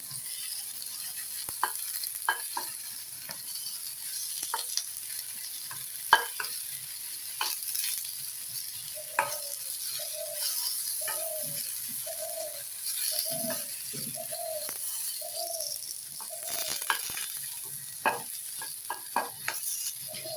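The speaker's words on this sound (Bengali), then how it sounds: "বেগুনগুলো ভাজতে আমার একটু সময় লাগবে।" Eggplant slices fry in oil in a pan for fish soup cooking, a soft continuous sizzle with occasional stirring clicks and scrapes, while a dove coos repeatedly in the background.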